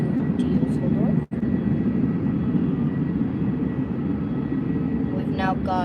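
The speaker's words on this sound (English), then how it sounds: "We've now got that Transavia A321neo from Amsterdam as well." A Transavia Airbus A321neo jet at Faro Airport roars steadily in the distance as a loud, sustained engine rumble, with a momentary dropout and a person speaking over it.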